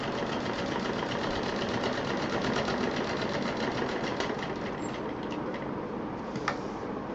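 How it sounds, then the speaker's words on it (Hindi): A sewing machine stitching together the pieces of a fabric pouch, running steadily and continuously at close range with a dense, even mechanical whir and no pauses. "ये हिस्सा तीनों को मिला के अब हम सिल देंगे।"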